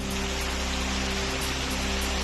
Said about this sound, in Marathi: नांदेडच्या विविध भागात अवकाळी पावसाची हजेरी.